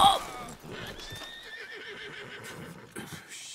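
A horse whinnies loudly up close in the video game Red Dead Redemption 2, its shrill neigh trailing off, followed by hooves clopping steadily on the ground.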